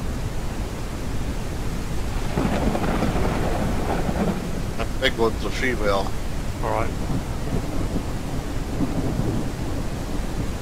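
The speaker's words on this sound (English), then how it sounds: "here comes the thunder and lightning" A thunderstorm rolls through a Ranch Simulator farm, with steady rain and broad rumbling thunder filling the whole stretch while someone talks over it.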